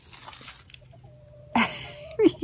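A chicken gives a few short clucks near the end, after a quiet stretch with a faint tone in the background.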